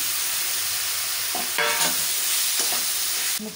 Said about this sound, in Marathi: मस्तपैकी छान असं याला फ्राय करून घ्यायचं आहे